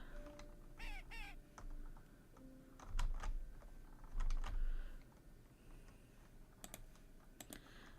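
A mother bird in a witch game caws a few times in short bursts, fairly close, mixed with keyboard clicks and soft game ambience.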